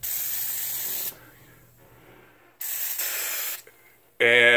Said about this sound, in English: I just take the oven cleaner, spray it in there, spray it up,